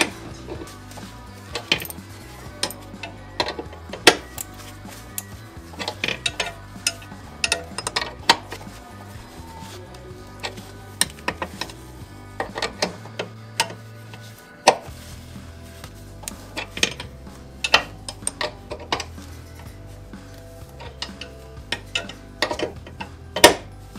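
A 13mm spanner tightening a brake stopper nut on an NB MX5 Miata: sharp metallic clinks and ticks come in irregular bursts close by, over a low steady hum, with no voices.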